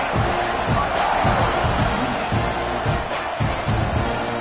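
Football stadium crowd before a fourth-quarter kickoff roars loudly, with rhythmic pounding or stomping beats pulsing through a sustained wall of noise.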